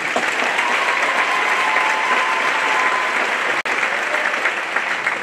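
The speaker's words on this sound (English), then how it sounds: "Give them a round of applause." Sustained applause from a large audience at a high school graduation ceremony honoring band seniors, a dense steady wash of clapping that cuts out abruptly for an instant before resuming.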